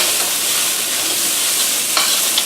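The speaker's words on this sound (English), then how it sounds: "I'm sauteing that around." Mushrooms sautéing in a pan over medium-high heat give a steady, close sizzle throughout, with a couple of brief stirring scrapes near the end and no talking.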